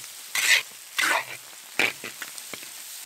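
Water poured into a hot wok of oil with Sichuan peppercorns, bean paste, pickled ginger and pickled chilies, bursting into loud hissing sizzles in a few surges, then fading to softer crackles.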